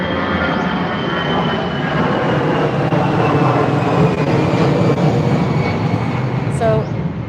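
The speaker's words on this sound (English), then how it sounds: "the occasional roar of a jumbo jet" A jumbo jet passes overhead in Thailand with a loud, broad roar that fills the whole stretch and swells slightly toward the middle before easing off.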